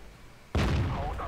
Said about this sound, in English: cjacey goes for a track shot but fails to track him.